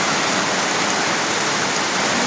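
Torrential rain from Cyclone Montha pours over a Kolkata street, a continuous, even hiss and rush of water, loud and close, with no talking.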